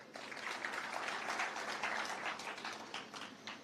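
Audience clapping at a formal Kenyan government gathering, a steady wash of many hands sustained across the whole stretch at moderate level, with no speech over it.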